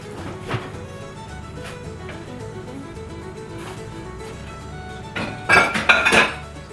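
Pots, pans and dishes being cleaned up in a home kitchen after cooking corned beef and cabbage: steady low clattering, then a louder burst of ringing clinks and metal knocks near the end.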